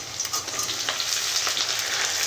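Tomato pieces fry with onions in a pan for a mushroom curry, giving a steady, close crackling sizzle throughout with no voices.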